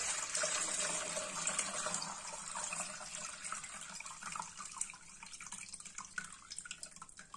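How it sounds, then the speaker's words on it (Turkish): Homemade fat-burner tea strained and poured, a steady trickling stream of liquid running close and fairly loud for several seconds, gradually thinning toward the end. "Evet arkadaşlar, yağ yakıcı çayımızı şimdi süzüyoruz."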